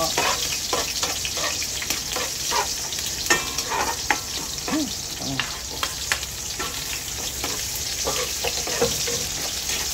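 Garlic and onion sauté in a hot pan with a steady close sizzle and crackle, broken by scraping stirs and soft clinks of a utensil, no talking.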